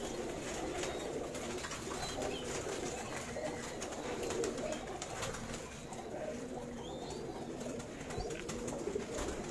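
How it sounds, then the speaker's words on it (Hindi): Pigeons, including a prized high-flyer, coo in a Karachi loft, soft rolling calls repeating steadily over a constant low hum of background noise with occasional faint chirps. "ये अली वाला कबूतर देखें"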